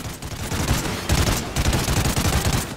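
Enemy gunfire in Call of Duty Ghosts, loud rapid automatic bursts in quick succession with brief gaps between volleys.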